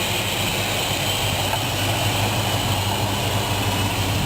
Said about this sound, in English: That's the engine running.